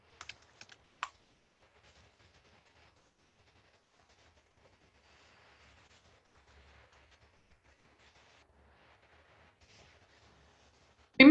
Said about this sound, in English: start typing in your question